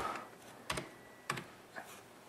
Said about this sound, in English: New message, and I will type